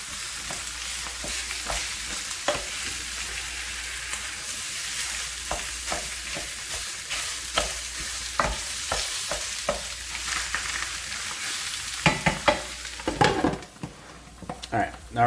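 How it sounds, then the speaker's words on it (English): Sausage meat fries with a constant sizzle while a spoon repeatedly scrapes and breaks it up in the pan, the clatter growing busier and more percussive near the end; close and fairly quiet. "We're just breaking it up with a spoon."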